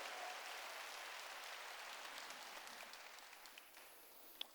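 A church congregation claps together during a Korean worship service, giving a steady, fairly faint wash of applause that slowly fades over several seconds.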